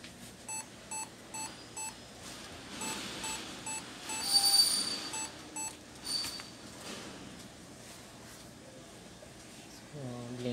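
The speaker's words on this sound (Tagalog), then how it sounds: "Blinking siya. May beep sound." A Lenovo T430 laptop with a no-display fault gives a repeating pattern of short electronic error beeps in groups, close and moderately loud, with brief handling noise and clicks mid-way.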